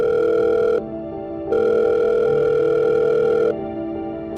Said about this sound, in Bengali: অরিন্দম আবার ফোন করল, আবার বেজে বেজে থেমে গেল।